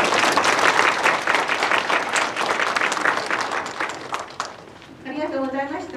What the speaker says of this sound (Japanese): 皆様の拍手で採択していきたいと思います